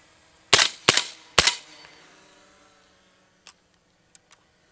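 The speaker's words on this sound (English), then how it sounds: "I'm going to shoot a couple rounds" Three sharp suppressed gunshots from a firearm fitted with a Lonestar silencer crack in quick succession, each followed by a brief decaying echo, then a few faint metallic clicks.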